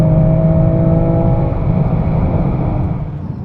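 BMW M3 accelerating hard from a launch-control start, a loud sustained engine roar heard from inside the car, pulling steadily with a low rumble before easing slightly at the end.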